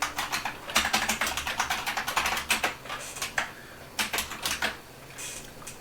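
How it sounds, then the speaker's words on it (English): Fingers typing on a computer keyboard, close and clear, in quick irregular bursts of key clicks with brief pauses between runs. "Well, let's type that in."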